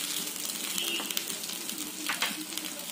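Spices sizzle and fry in a pan for white egg korma, a steady close crackling hiss with faint stirring scrapes running throughout.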